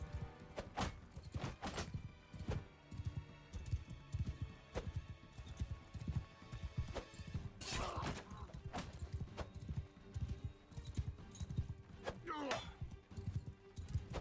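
Horse hooves clip-clop in Mount and Blade: Bannerlord, a steady run of thuds repeating throughout amid game battle noise and other sounds.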